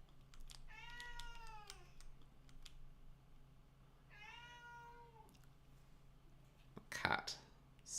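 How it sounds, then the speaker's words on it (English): A house cat meows twice in long, drawn-out, rising-and-falling calls, close and fairly clear over a quiet room, followed by a brief clatter of clicking near the end. "Cat speaks."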